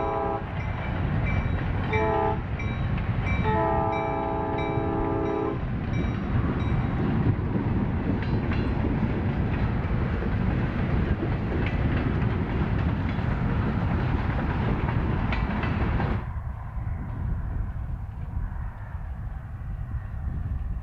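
Idaho Northern & Pacific locomotive 4608 draws near on the Joseph Branch, sounding several loud horn blasts early over a heavy rumbling engine and rolling wheels that stay strong before dropping off.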